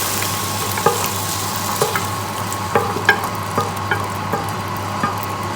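Pork frying in a pan on the stove: a steady, even sizzle holds throughout, with a few light clicks and taps of stirring scattered over it, and no voices.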